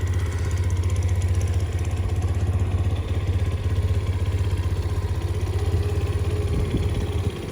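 A Grom clone motorcycle idles quietly on its stock exhaust, a steady low putter with fine rhythmic pulsing and faint mechanical clatter that runs unchanged throughout.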